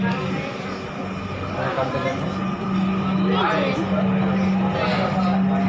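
Inside a Dhaka metro rail train bound for Motijheel, a steady low rumble and hum of the moving carriage runs throughout, with a murmur of passengers talking nearby.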